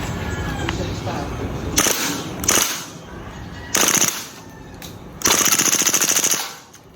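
A DB Glock 18 gas airsoft pistol fires full auto in several short rapid bursts of sharp clattering shots, close and loud, separated by pauses with quiet talk in the background.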